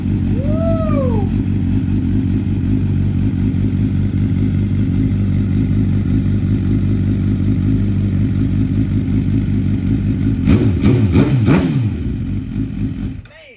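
A turbocharged Suzuki GSX-R1000 sport motorcycle engine runs loud and close, a steady heavy idle that climbs into a few quick sharp revs near the end before the sound drops away.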